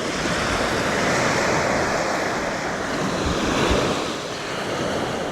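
Ocean surf rolls onto a beach early in the morning, a steady broadband wash of breaking waves with some wind rumbling across the microphone, continuous and fairly loud with no voices.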